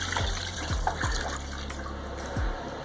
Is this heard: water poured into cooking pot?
yes